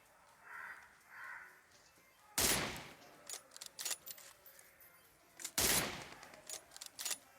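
Gunfire in the mobile battle game PUBG Mobile, two loud sharp blasts a few seconds apart with smaller scattered cracks between them, alongside faint breathing-like noises.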